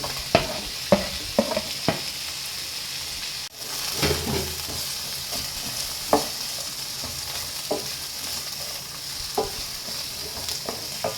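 Capsicum and other vegetables sauté in hot oil in a home kitchen, a steady sizzle broken by sharp clacks of a spoon stirring against the pan at irregular intervals, with no talk.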